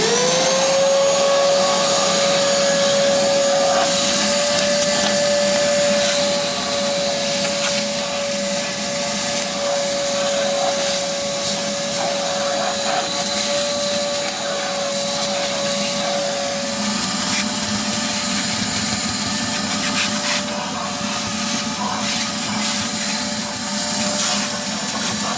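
A shop vac runs steadily on a garage floor, sucking up leftover water and small rocks, its loud continuous whine with a sustained tone holding for about twenty-five seconds with no talk.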